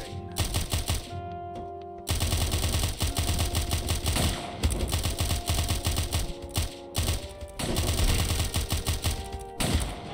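Dense, rapid gunfire from many weapons in the video game Of Murder and Moonshine, loud and nearly continuous with brief gaps, sharp clattering bursts layered over one another and no talk.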